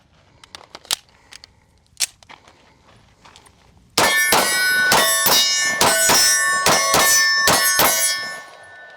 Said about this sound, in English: First shots with the 2K11 stainless 5-inch comp.